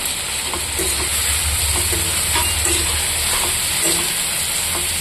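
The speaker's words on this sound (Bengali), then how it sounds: "এটা একটু ভাজা ভাজা করব।" Cumin seeds and green chillies frying in hot oil with tomato close by, a steady bright sizzle throughout with faint stirring scrapes, no voices.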